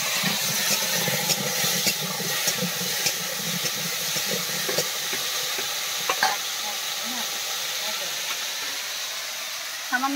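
A fish curry made with freshly caught river fish fries in a pan, a steady close sizzle and hiss broken by repeated scraping and clinking of a stirring spoon.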